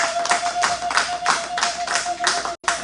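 Congregation in a French-speaking church service clapping together to acclaim the Lord, a steady rhythmic burst of many hands close by, with a sustained tone running underneath.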